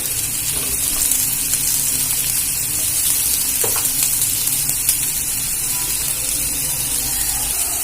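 Chopped onion, green chilli and capsicum fry in a pan with a loud, steady sizzle and hiss heard up close, with occasional stirring and no talking.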